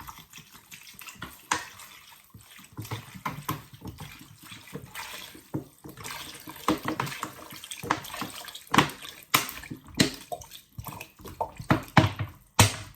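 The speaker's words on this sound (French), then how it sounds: "Donc moi je vais mettre 2 litres d'eau." Water runs and splashes into a large cooking pot, about two litres for a pot of hrira soup, a steady tap-like pour with small bursts and drips, fairly close, with no talking.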